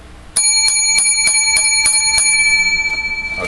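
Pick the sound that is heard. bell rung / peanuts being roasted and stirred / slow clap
bell rung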